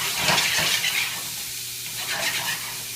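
Seasoned meat for Texas chili searing in a pan, with a steady hissing sizzle that surges with stirring, loudest at the start and again toward the end.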